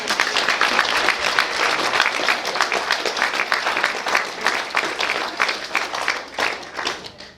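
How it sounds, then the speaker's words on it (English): Wedding guests break into sustained applause at a groom's speech, steady dense clapping filling the room for several seconds before starting to thin out at the end. "Actually, I'm going to give you a round of applause for that."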